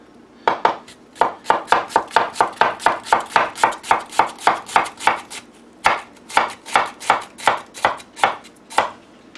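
Knife chopping half an onion on a cutting board, a rapid steady run of sharp close knocks, about two dozen, with a brief pause midway before chopping resumes.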